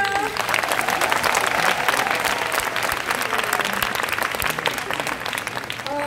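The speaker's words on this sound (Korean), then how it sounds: "여러분 다시 한번 큰 박수 부탁드릴게요" Loud, sustained applause from a large audience at a Nu Skin success-story seminar, dense clapping filling the whole stretch evenly without a break, with a faint murmur of the crowd mixed in.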